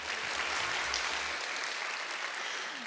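A studio audience applauds the Sky team after their final stage performance in a competition show, a sustained even wash of clapping that holds steady throughout, with some low rumble early on.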